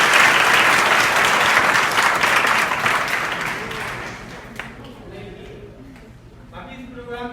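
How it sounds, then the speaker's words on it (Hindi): An audience at an adult education program in an Uttar Pradesh inter college gives loud, sustained applause for someone speaker. The clapping fades after about five seconds and a voice begins speaking near the end. "तो मैडम के लिए जोरदार ताली हो जाओ।"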